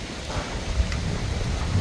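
Hard hurricane rain and gusting wind roar outdoors in St. Ann Parish, Jamaica, during Hurricane Melissa, forming a loud, dense, continuous wash of noise with no voices.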